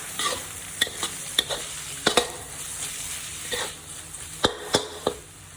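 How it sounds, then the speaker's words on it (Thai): Pork and egg are stir-fried in a pan, with repeated spatula clacks and scrapes in an irregular rhythm over a moderate, steady sizzle. "เมื่อไข่เริ่มสุกแล้วเราจะนำหมูมาคลุกเคล้ากับ ไข่กันเลยค่ะ"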